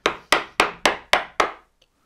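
A wood chisel struck with a mallet to pare away material, six sharp evenly spaced knocks, close and loud, with no talking.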